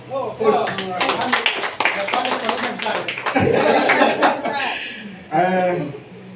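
An audience at a party inauguration ceremony in Fakfak, Papua, claps while a speaker keeps talking over it; the clapping is dense at first, thins out, and comes with some chuckling.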